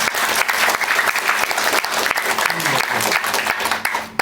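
Audience at a motivational business seminar claps loudly and steadily, a thick wash of applause throughout with some faint voices beneath.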